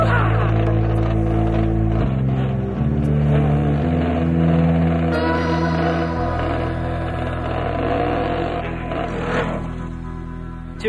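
ATV engines on a trail drone and rev together, stepping up and down in pitch as throttles change, loud and continuous throughout.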